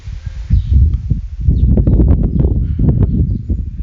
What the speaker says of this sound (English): I do apologize for all the wind noises